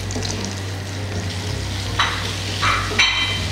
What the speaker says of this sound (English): I'll be stirring.